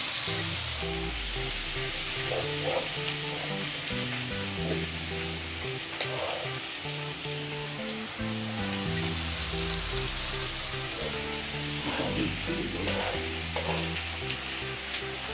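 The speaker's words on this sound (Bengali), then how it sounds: "আমরা হচ্ছে পেঁয়াজ কুচিটা দিয়ে দিলাম, দিয়ে আমরা হচ্ছে এটাকে একটু নেড়ে ছেড়ে দিচ্ছি" Chopped onion sizzles in hot oil with garlic paste in a pan, a steady frying hiss with occasional stirring scrapes throughout while fish is being cooked.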